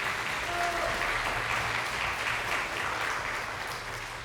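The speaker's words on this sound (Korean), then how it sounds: "다시 한번 큰 박수 보내주십시오." Sustained, dense applause from a concert audience after a pianist's performance of Rachmaninoff's Piano Concerto No. 2, steady and full throughout with no voices over it.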